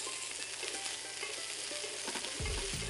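Steak sizzling steadily in a hot pan while being basted with garlic and thyme, a dense continuous crackle and hiss with a heavier burst of frying near the end.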